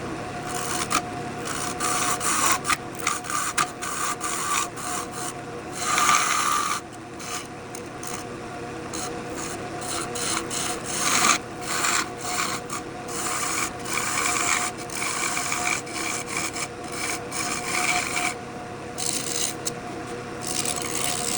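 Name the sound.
gouge cutting rough walnut bowl on wood lathe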